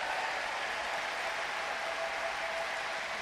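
A large crowd at the London 2012 Paralympic table tennis gives steady, dense applause from start to end. The clapping merges into an even, hissing wash with no speech.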